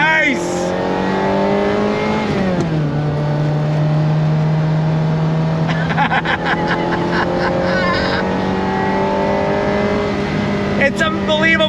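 Naturally aspirated mid-mounted V8 of a 1992 Ferrari 348 with a five-speed gated manual, revving hard through gears with rising pitch sweeps and a shift drop, loud, close and continuous from inside the car.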